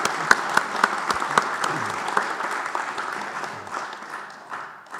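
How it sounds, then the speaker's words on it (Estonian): A conference hall audience at a Tartu Peace Treaty commemoration gives a round of applause, opening with a few sharp, distinct claps and settling into a softer, steady patter that fades toward the end. "Teeksime talle äkki ühe aplausi"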